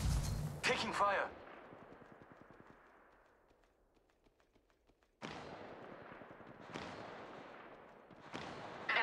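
Gunfire in the Apex Legends Mobile video game, with a loud burst of shots at the start, a quieter rattling stretch, then further sharp bursts later on, mixed with game sound effects.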